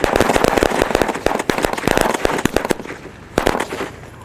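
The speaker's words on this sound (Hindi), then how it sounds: "मलिंगा ने इसको फटाफट से थैली फाड़ी और लगाते हैं इसको आग, देखते हैं ये कैसा चलता है और किस टाइप का साउंड सुनने को मिलता है।" A rapid string of loud Diwali firecracker bangs crackles in a dense burst, pauses briefly, then a few more sharp pops follow.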